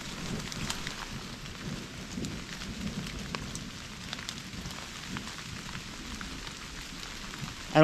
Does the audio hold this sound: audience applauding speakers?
no